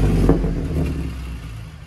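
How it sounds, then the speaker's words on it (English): A 2016 Ford F-150 EcoBoost V6 with a muffler delete rumbles with a loud, deep exhaust drone that swells briefly early on and then settles into a steady throaty idle. "So we got a Ford F-150 EcoBoost. This is what it sounds like with just a muffler delete."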